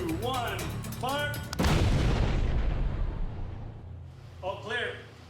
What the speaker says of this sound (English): Measuring the impact of these explosives will help to protect first responders